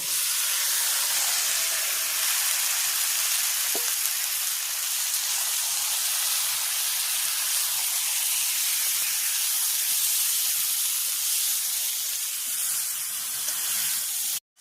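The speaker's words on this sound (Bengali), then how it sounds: "এবার আমি মাংসটাকে ঢেলে দিলাম।" Chicken meat for kosha poured into a small hot wok over a little gas cylinder bursts into a loud, broad, steady sizzle that hisses on without a break for the whole stretch.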